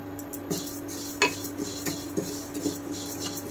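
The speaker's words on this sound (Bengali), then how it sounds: "আর আমি মুগ ডালগুলো একটু ভেজে নেব।" Moong dal dry-roasting in a hot kadai while a spoon stirs and scrapes it, giving a series of sharp metallic clinks and rasps at a steady pace over a low, even hum.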